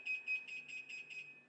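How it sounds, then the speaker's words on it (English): A food timer sounds its expiry alert for discarded product, a rapid run of about six high electronic beeps in quick regular pulses, faint and alone. "it gives my audible alert, and it's going to continue to do that"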